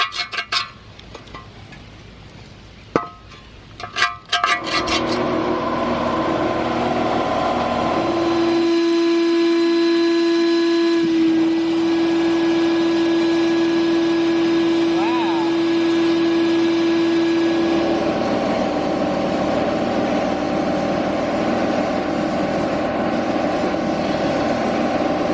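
A vintage 1960s western-style hibachi shichirin grill gets sandblasted. After a few sharp clinks and knocks, a loud, steady roaring hiss with a sustained drone takes over and runs unbroken to the end.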